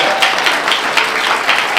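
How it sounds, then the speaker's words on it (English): A congressional audience at an Armenian Genocide observance claps in a brief, dense round, loud and close, with a few individual claps standing out. "Can I have a round of applause for that one?"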